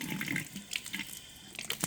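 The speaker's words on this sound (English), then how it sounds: "run a little cold water" Cold tap water splashes from a faucet into a lab sink during a potassium nitrate solubility demonstration, faint and uneven, in short bursts.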